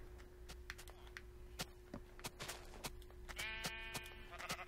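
A Minecraft sheep gives a couple of quavering bleats near the end. Scattered clicks and thuds from the game come before them over a low steady hum.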